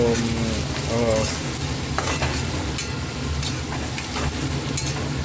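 Onions dropped into preheated, very hot oil fry with a steady, loud sizzle while being stirred, and scrapes and clinks of a utensil against the pan cut through at intervals, with no talking.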